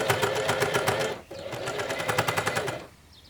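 A sewing machine stitches a seam on climbing pants, running in close, loud rapid bursts with a brief pause midway before it stops.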